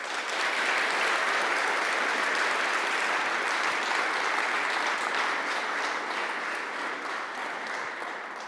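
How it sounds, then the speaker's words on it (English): Loud, sustained applause from a lecture audience welcomes a speaker to a talk on a fair economy, a dense, even wash of clapping throughout with no pause. "Please give a warm round of applause for Stuart White."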